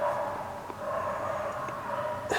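A dog outdoors gives a quick run of barks and yips at moderate distance, short and clear with no talking over it.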